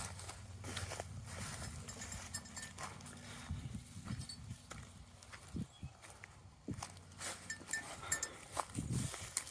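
Goats on a farm beside a silver barn, shuffling and stepping close by amid soft bleats and scattered knocks, with light movement throughout at a modest level.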